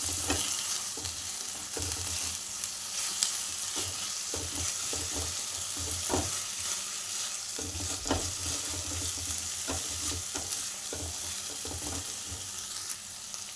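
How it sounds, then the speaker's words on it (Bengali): A spoon works through salty vermicelli with a splash of soy sauce in a hot pan, giving a soft continuous sizzle with regular scraping and stirring knocks, close up and without talk. "সামান্য পরিমাণে সয়া সস দিয়ে বেশ ভালো করে নাড়াচাড়া করে"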